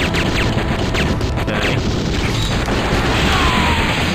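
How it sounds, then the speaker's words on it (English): Rocket explosions and booming impacts pile up in Metal Slug XX, a dense, loud and continuous wall of crashing game effects with no voices over it. "the rockets are doing damage to its main body"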